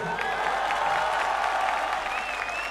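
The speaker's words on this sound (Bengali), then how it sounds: "ওর জন্য একটা জোরে হাততালি হোক" Audience on a stage-show crowd giving a young performer a round of applause at a youth festival, dense steady clapping filling the space with a few faint cheers.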